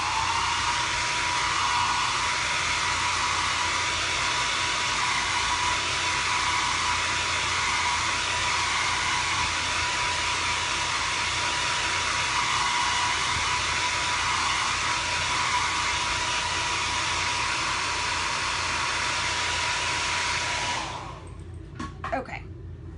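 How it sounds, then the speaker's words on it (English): A hair dryer blow-drying a chalk-stenciled pumpkin spice fall craft piece, a loud steady whirring roar running continuously for about twenty seconds before cutting off abruptly. "So I'm just going to blow dry this real quick."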